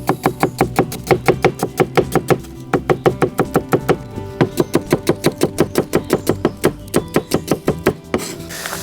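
Rapid, steady knife chops slicing onion into strips on a cutting board, dozens of crisp strikes in quick bursts with brief pauses, close and fairly loud.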